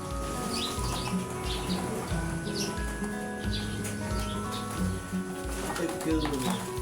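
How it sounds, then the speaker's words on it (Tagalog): Racing pigeons, a grizzle among them, coo and chirp in a loft with steady low cooing and scattered calls, while people talk over the flock throughout. "Gandang ibon."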